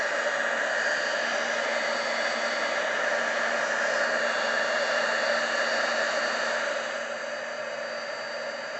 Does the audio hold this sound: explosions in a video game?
no